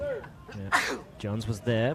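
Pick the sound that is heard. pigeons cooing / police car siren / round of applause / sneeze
sneeze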